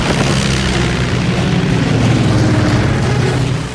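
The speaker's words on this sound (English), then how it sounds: "avoiding the deadly stream of 20 millimeter cannon fire" Rapid 20 millimeter cannon fire during an aerial dogfight between fighter aircraft, a loud, continuous roaring barrage with dense booming bursts that holds steady for several seconds before easing slightly.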